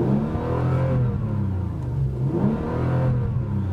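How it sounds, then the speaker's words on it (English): A Bentley Continental Supersports engine revs, heard from inside the cabin, rising and falling in several smooth throttle blips over a steady deep drone, close and fairly loud with no talking. "Let's give a little engine rev."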